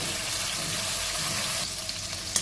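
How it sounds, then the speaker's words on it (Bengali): Fish frying in hot oil in a pan, a steady dense sizzle and crackle close by, broken near the end by a few light clicks and taps. "মাছগুলো ভাজা হয়ে গেছে তুলে নেব"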